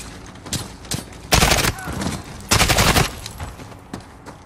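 Gunfire in Call of Duty Modern Warfare during a civil war battle, several loud, close volleys of rapid shots with short lulls between bursts and quieter scattered shots around them.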